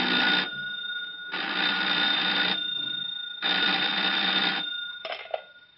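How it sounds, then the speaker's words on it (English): An old-time telephone bell rings as a radio drama sound effect in a sheriff's office in Ventura, three long loud rings with pauses between, ending with a short clatter as the receiver is picked up. "the telephone in the office of Sheriff Durley in Ventura rang an insistent summons"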